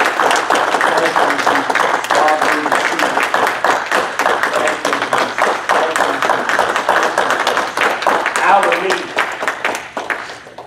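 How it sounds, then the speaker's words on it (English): Church congregation clapping hands in praise: dense, steady rapid clapping from many people filling the room for the whole stretch, with some vocal sound mixed underneath. "Give the Lord a hand clap of praise."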